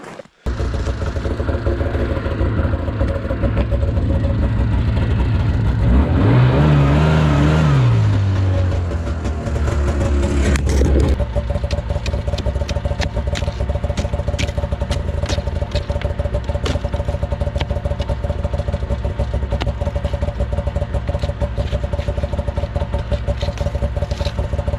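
A snowmobile engine revs up and settles to a steady running drone on a frozen, slushy track on a cold winter morning, loud and close, with a rising pitch sweep midway before the motor holds a constant rumble.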